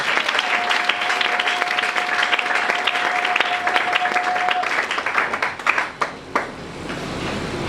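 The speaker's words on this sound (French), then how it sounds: "Acclamons très fort pour nous." A church congregation applauds loudly during a worship service, dense continuous clapping that runs steadily, then breaks into a few scattered louder claps as it thins toward the end.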